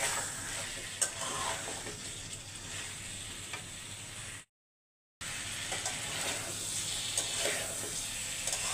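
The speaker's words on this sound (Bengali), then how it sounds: "তরকারিটা এখন ভালো করে কষিয়ে নেব।" Curry with pabda fish sautéed in a pan, giving a continuous frying sizzle with stirring scrapes, broken by a brief silent gap midway before the sizzle resumes.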